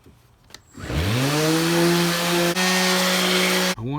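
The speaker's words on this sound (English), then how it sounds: "we're just gonna sand these babies up." A power sander starts up and runs loud and steady on wooden pieces for a Christmas tree box collar, with a rising whine at startup, a sustained buzzing drone, and a brief dip near the end before it carries on.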